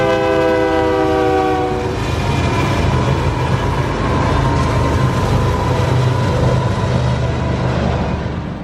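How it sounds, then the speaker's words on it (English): A loud train horn blares at the start, then the heavy rumble and rattle of a passing train continues steadily up close, at the Modena, Utah ghost town. "as luck would have it again, a train's coming by."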